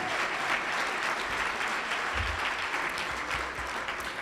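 A crowd at a breast cancer charity kickoff event gives a round of applause, dense sustained clapping that fills the whole stretch evenly and stays loud throughout.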